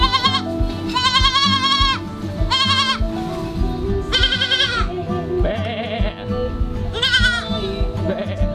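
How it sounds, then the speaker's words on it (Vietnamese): Several goats bleat in repeated wavering cries, fairly close, at a rural home on an island near Nha Trang, Vietnam, over steady background noise and some talk. "Giới thiệu với mọi người, đây là mấy con dê."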